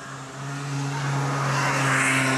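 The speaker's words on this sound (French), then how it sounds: "Scooter." A scooter passes by outdoors, its steady motor drone growing louder and brighter as it approaches over a couple of seconds, with no talking.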